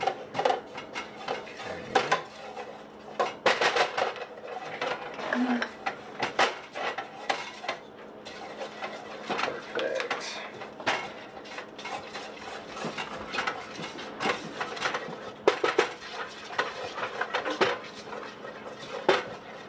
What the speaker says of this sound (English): with the flour, you want to instantly stir it in with the butter to avoid any lumps